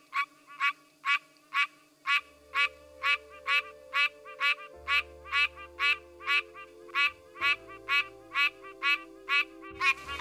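Pine Barrens tree frog males call from low perches with nasal, honking quonks, repeated in a steady, evenly spaced series of about twenty calls over a faint low background hum.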